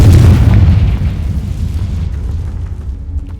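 The Confringo fire spell in Hogwarts Legacy hits with a loud, deep explosive boom, then its rumbling tail fades over a few seconds.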